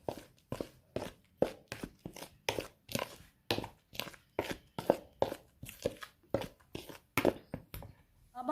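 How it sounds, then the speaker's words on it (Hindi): Dry gram flour being mixed with turmeric and spices in a bowl for fries pakora batter, a close, quiet run of rhythmic scraping and crunching strokes repeating at a steady pace with no talking. "अब हम इसे मिक्स कर लेंगे।"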